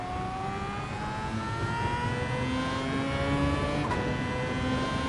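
A Mazda race car engine in Gran Turismo 7 drones steadily throughout, its pitch climbing gradually as it accelerates with a constant whirring tone and no speech.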